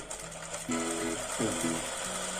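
A sewing machine stitching piping onto fabric runs in short bursts with a mechanical whir, starting and stopping at close range, with faint background noise in between.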